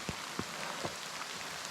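Heavy rain falls as a steady, dense hiss outdoors, with a few louder drops striking close by and no voices.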